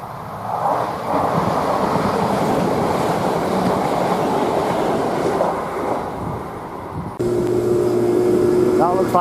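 A train rumbles steadily along the line near Fairfield, Manchester as it approaches a station, a loud, continuous rolling roar with a sharper whine and brake-like squeals near the end.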